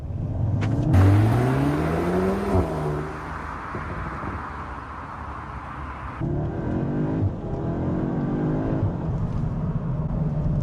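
An Audi S3 Black Edition launches at full throttle inside the cabin, its engine note climbing steeply, dropping at a gear change, then building again through a second pull.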